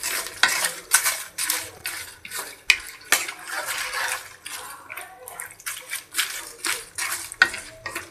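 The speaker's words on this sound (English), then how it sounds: "Now I'm gonna give it a quick stir." Ginger, garlic, chilies, onions, bay leaf and masala spices stirred in a pan for shami kabab, a series of irregular scraping and clattering strokes over a low sizzle, close up.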